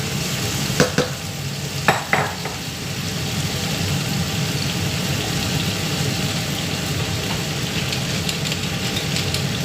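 Food browning in olive oil in a pan makes a loud, steady, close sizzle, with a few sharp utensil scrapes early on and no talk.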